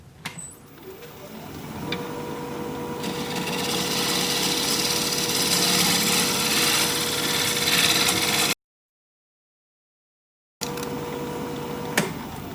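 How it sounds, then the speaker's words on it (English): Freshly sharpened 5/8 inch bowl gouge cutting across wood on a lathe turning at about 1100 RPM, a steady hissing scrape over the lathe's hum that swells and holds, then a brief silence before it resumes. "I have my freshly sharpened 5/8 inch bowl gouge, and we're just going to come across here and flatten this out"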